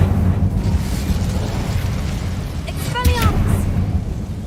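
An Incendio fire spell cast in Hogwarts Legacy flares up as a short burst, with a whooshing, crackling swell over a steady low rumble of game ambience; a voice is heard in the mix.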